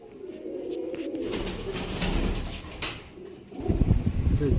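Fancy pigeons coo in a village breeding loft in Namkhana, South 24 Parganas, with low throaty calls rising and falling nearby and a burst of louder cooing near the end.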